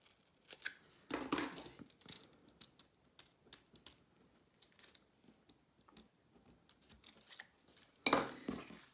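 Paper being cut with scissors while making a gift card pouch, a few crisp close snips with quiet rustling and handling between them, including one longer cut near the start and another near the end.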